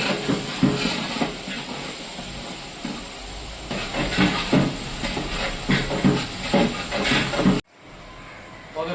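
Onions sizzle and hiss steadily in a hot pan while being fried to golden brown for a potato kurma, with a continuous bright crackle and occasional stirring clatter, before cutting off abruptly near the end.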